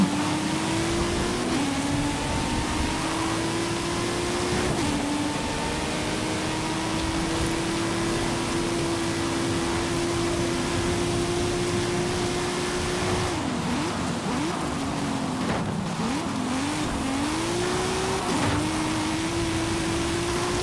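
Toyota car engine in the Forza Horizon 5 racing game, a steady droning hum that rises and settles with gear changes and brief revs, loud and continuous without talk.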